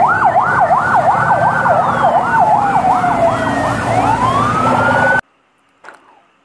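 A toy military ambulance siren wails, rising and falling in quick, regular sweeps, loud and close, then cuts off abruptly, leaving near silence with a faint brief rustle.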